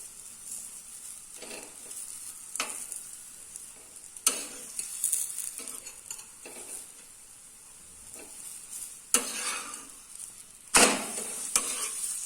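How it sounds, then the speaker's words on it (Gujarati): Green pea paratha roasting in ghee on a flat pan gives a quiet, steady sizzle, broken by several sharp hissing bursts as the flatbread is pressed or turned. There is no talk. "શેકાઈ જાય ત્યાં લગીને આપણે આને શેકવા દઈશું. અને આ બાજુ પણ આપણે ઘી લગાવી દઈશું."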